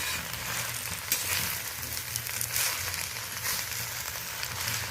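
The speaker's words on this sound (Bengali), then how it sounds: "শাকটা উল্টে পাল্টে আমি হালকা হাতে একটু নেড়ে নিচ্ছি" Tender drumstick leaves tossed and stir-fried in a pan, a faint continuous sizzle and crackle with soft turning sounds throughout.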